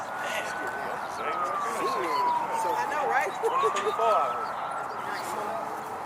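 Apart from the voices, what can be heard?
police sirens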